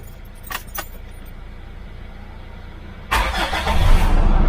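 A car engine cranks and catches after a jump start on a dead battery, roaring up loudly and steadily nearby, with keys jangling briefly before it fires.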